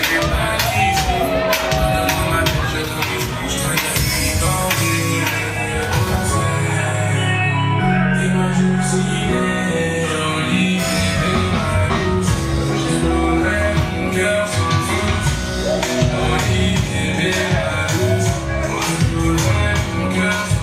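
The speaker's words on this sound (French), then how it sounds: "On applaudit pour elle" A pageant crowd at the Miss Subsaharienne 2022 finale in Morocco cheers and shouts over loud music, a constant dense roar with whoops throughout.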